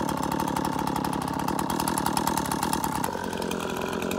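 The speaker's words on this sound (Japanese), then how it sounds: "草刈り機のエンジンが温まったらですね買っていきます" A petrol brush cutter on a grassy embankment drones steadily and close, its engine holding a constant, buzzing pitch throughout.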